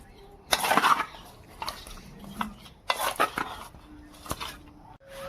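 A spatula scrapes and clinks against a metal dish while raw fish is mixed with salt and turmeric, giving irregular bursts of clatter with quiet pauses and a faint voice between them.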